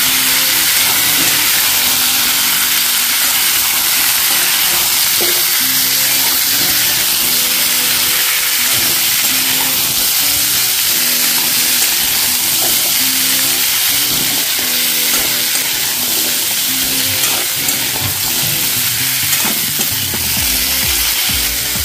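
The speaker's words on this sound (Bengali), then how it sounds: "এবারে এর মধ্যে কেটে রাখা কুমড়োগুলো আমি দিয়ে দিচ্ছি। দিয়ে ভালো করে এটা নাড়াচাড়া করে নিচ্ছি।" Cut pumpkin pieces fry in a hot pan for a vegetarian dish, with a loud, constant sizzling hiss and occasional scraping as they are stirred, and no talking.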